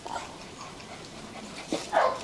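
Fluffy white Bac Ha village puppies give a few faint, short whimpers near the end of a quiet stretch of low room noise.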